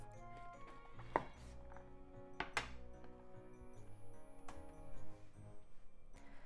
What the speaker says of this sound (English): Shimeji mushrooms. Cut the bottom off.